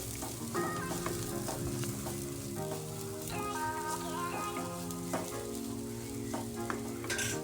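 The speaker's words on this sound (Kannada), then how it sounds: "ಈರುಳ್ಳಿ ಸ್ವಲ್ಪ ಕಲರ್ ಚೇಂಜ್ ಆಗೋವರೆಗೂ ಫ್ರೈ ಮಾಡ್ಕೊಬೇಕಾಗತ್ತೆ" Finely chopped onions frying with cumin in hot oil for an aloo methi matar masala, a continuous close sizzle with some stirring, under what sounds like background music, no speech.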